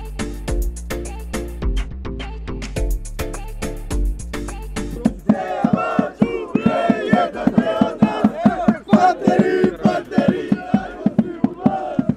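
Home football fans at an FK Iskra Kucura match chant loudly in unison, with rhythmic drumbeats pounding under a crowd of voices that swells louder partway through and keeps a strong, driving beat.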